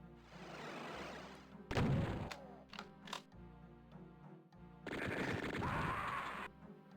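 Rapid gunfire bursts from a chaingunner in Doom II, with a long dense burst, a sharp heavy blast, several short bursts and another sustained burst, loud and alone.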